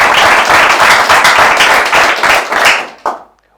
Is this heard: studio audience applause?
yes